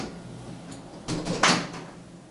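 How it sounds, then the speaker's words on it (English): A bathroom door in a small studio apartment in Milan's Navigli area opens with a couple of short clicks and a soft knock, close and fairly quiet in an otherwise still room. "through this door, we access the bathroom"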